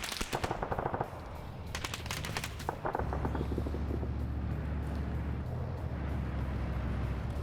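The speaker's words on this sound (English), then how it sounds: "Machine gun firing at Tilch here." Machine-gun bursts in an online USA-versus-USSR multiplayer military shooter: rapid, loud rattling volleys in the first few seconds, then a steady low engine-like rumble continues with the firing gone.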